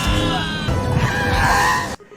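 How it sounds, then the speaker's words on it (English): The Star Wars character Boba Fett lets out a shrill, wavering film scream lasting about two seconds, loud and close, breaking off abruptly into silence. "he screams like a wuss"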